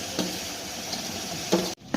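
Tomato and meat sautéing in a pan for a curry kurma, a steady close sizzle with a few soft scraping stirs and a brief clatter near the end, no talking.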